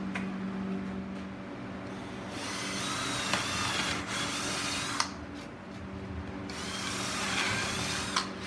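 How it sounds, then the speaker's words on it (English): A power drill pre-drilling marked holes for a dust collector install whirs in several sustained bursts, with brief pauses and sharp clicks between runs, close and fairly loud over a steady background hum. "drill all my marked out holes, pre-drill them"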